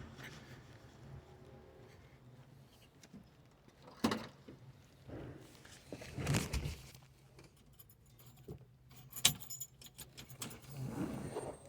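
Keys jingle and clink in several short bursts, close by, among quiet rustling and handling noises.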